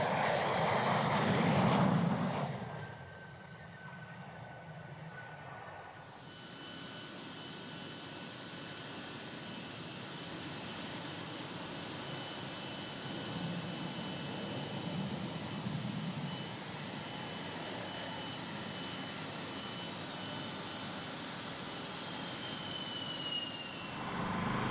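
Dassault Rafale jet aircraft passing with a roar, a loud rumbling burst at first that settles into a sustained, steady jet-engine whine and rush heard at a distance.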